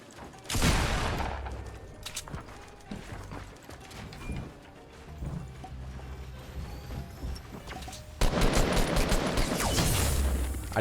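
Rapid bursts of gunfire in the Fortnite battle royale game, including an SMG, crackle in loud clusters at the start and again near the end, with scattered shots and mechanical clicks between them.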